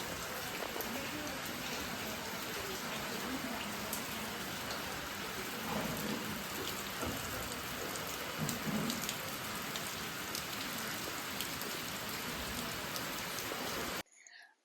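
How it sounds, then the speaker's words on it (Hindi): Steady rain pours down, a dense, even hiss of drops hitting surfaces that continues unbroken before stopping abruptly at the end. "बारिश तो यहाँ पे हर समय रहती है।"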